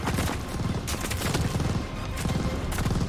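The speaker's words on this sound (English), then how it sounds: "that's a lot of bullets coming from the side" Dense gunfire fills a Call of Duty: Vanguard campaign battle on Xbox Series X, a steady loud fusillade of rapid shots with bursts of heavier fire running throughout.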